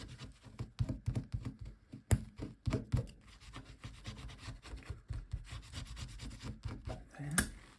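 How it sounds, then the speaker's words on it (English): Hand burnishing, rubbing a surface down by hand, sounds as a steady series of short, close scrubbing and rasping strokes in an uneven rhythm, with a few sharper knocks. No one speaks. "And burnish it a little down."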